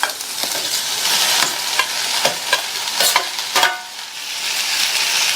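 Sautéed okra stir-fried with onion in a pan, a steady frying sizzle broken by several sharp spatula scrapes and knocks, close and clear.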